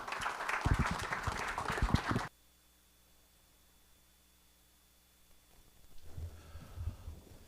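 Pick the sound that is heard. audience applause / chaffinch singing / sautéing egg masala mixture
audience applause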